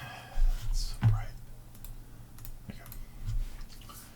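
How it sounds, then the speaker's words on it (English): Fingers type on a clickety-clackety computer keyboard, producing scattered clicks and a few louder key strikes at irregular intervals, close and fairly quiet, with faint background noise. "you've got your clickety clackety keyboard here"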